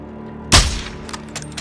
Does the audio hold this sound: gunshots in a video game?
yes